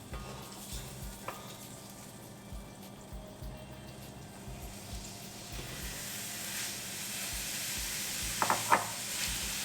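Fat melting and sizzling in a kadai before paneer goes in for browning, a steady low sizzle and stirring at moderate distance, quiet throughout with a few brief scraping clicks near the end.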